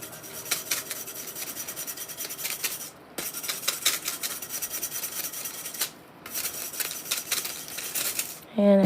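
A brush rubs foil down onto glue in quick, steady scratchy strokes, repeated in three bursts with brief pauses between, close and moderately quiet.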